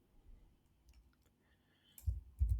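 Computer keyboard keys are pressed during a Ctrl+X cut of code. The room is quiet, then two firm, close clicks sound near the end, about half a second apart.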